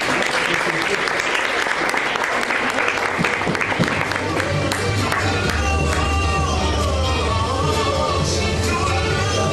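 Loud applause and cheering from a slam poetry audience for a poet, dense clapping at first that thins out while background voices and music-like tones continue underneath.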